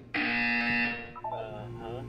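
A loud electronic buzzer in the video game Portal 2 blares for about a second with harsh tonal harmonics, followed by fainter warbling tones as it fades.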